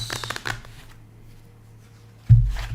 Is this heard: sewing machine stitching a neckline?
no